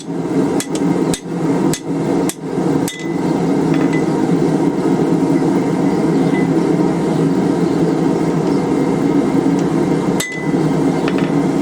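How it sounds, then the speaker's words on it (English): A steel nut is hammered to cut off a small leftover bit while forging a chisel, sharp metallic strikes ringing in a quick series, then a long steady roar, then one more blow. "Cut off this little bit of a nut we left here."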